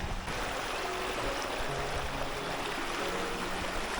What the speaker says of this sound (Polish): Bystra rzeka, ale strasznie zamulona.